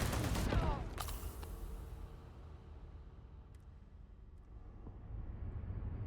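Gunfire in the Starfield video game, a sharp cluster of shots near the start that fades into a low rumbling game ambience, with a few faint distant pops afterward and no talk.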